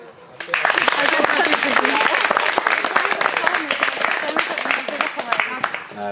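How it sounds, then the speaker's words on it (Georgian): Guests at a civil wedding registration ceremony break into applause after the couple is declared married, a dense burst of clapping that starts abruptly, stays strong, then thins out, with voices mixed in. "აპლოდისმენტები"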